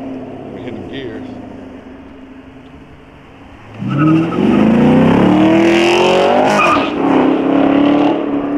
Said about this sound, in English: And that is a stock exhaust, man.